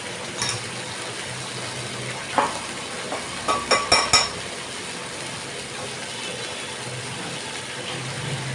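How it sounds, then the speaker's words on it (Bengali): Ingredients for dhokar dalna are stirred and sautéed in a pan, giving a low sizzle with a few scraping stir strokes clustered in the middle, close and with no voices. "এবার এগুলোকে ভালো করে কষাবো।"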